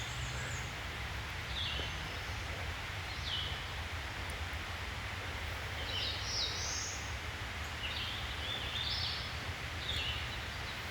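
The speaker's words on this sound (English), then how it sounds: "This area is home to a diverse collection of western North Carolina birds." Wild birds call and chirp in short scattered bursts across a western North Carolina forest in the Montreat Wilderness, faint and distant over a steady hiss of wind and rustling leaves.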